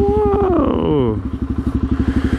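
A Suzuki DR-Z dual-sport motorcycle rides close by, its single-cylinder engine rising in a revving pitch sweep, then settling into a steady, rapid thumping pulse at lower revs.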